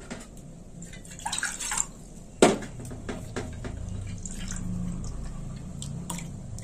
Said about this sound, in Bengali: দিয়ে দিলাম সিদ্ধ করা ডাল, আর একটু জল দিয়ে দেবো এতে।